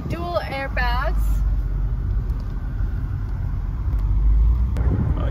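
A 1994 Mercedes-Benz SL500 with low mileage rolls along on a test drive, its engine and road rumble steady and close from inside the cabin, with a brief voice at the start.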